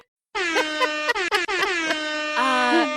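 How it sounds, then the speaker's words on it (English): A loud, blaring hip hop air horn sound effect blasts in quick stuttering bursts, then holds a long sustained tone. "I'm going to give myself a hip hop air horn."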